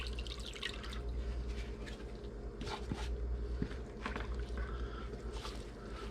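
Liquid marinade splashes and drips steadily over deer meat for jerky in a wet, continuous trickle close by, with a few small clinks and taps.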